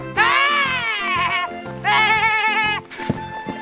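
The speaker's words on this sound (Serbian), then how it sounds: "To je ovca." A sheep bleats twice in long, wavering, nasal calls, then gives a shorter cry. The bleats sound close and loud over a soft, steady rhythmic backing.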